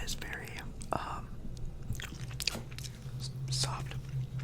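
Someone chews a soft bagel sandwich close up, with moist smacking and soft biting sounds running steadily under a quiet whispering voice.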